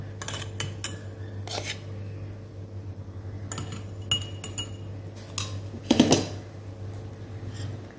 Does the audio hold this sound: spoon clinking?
yes